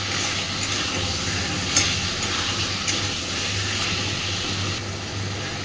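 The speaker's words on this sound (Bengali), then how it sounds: "আলুগুলো দেওয়ার পরে মিনিট 2-3 ভালোভাবে মশলার সাথে কষে নেব।" Potatoes frying with spices in a pan for a Kashmiri dum aloo, giving a steady, even sizzle with a faint low hum underneath and a couple of brief sharper spikes, no talking.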